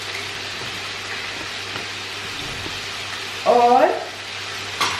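Chicken fries in oil with black pepper, a moderate, even sizzling hiss throughout, interrupted by a brief spoken word and a sharp click near the end.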